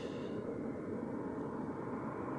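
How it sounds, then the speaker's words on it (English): Air Canada Boeing 787-9 on final approach at Zurich Airport, a steady distant jet engine roar, continuous and even throughout with no talk. "we have the Air Canada now on final. Boeing 787-9."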